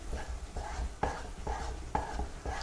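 Almond halwa being stirred in a kadai, soft rhythmic scraping strokes of a spoon against the pan, repeating roughly every half second, quiet and close.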